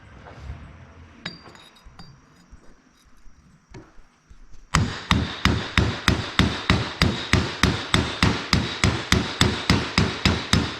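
Hammer blows drive bearings into a RZR gear reduction housing, about twenty sharp, evenly spaced metallic strikes in a steady rhythm after a few scattered lighter taps, close and loud with no talking.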